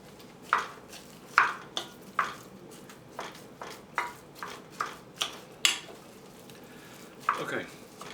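Onions and ground beef sautéing for chili, a soft background sizzle broken by a regular series of sharp utensil scrapes and clinks against the pot, roughly one every half second, fairly quiet.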